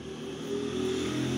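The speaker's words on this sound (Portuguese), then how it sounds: "Tá passando esse barulho de moto, essas coisas aí." A motorcycle passing outdoors in Cuiabá, Mato Grosso, a steady engine drone that grows slightly louder over the brief moment, heard fairly close with no talk.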